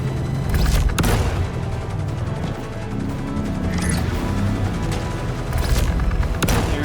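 Tank battle on Microtech in Star Citizen, with heavy booms and crashing explosions and bursts of gunfire over a constant dense rumble of combat.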